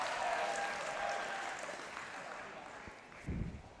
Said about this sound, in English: Platel gets the crowd going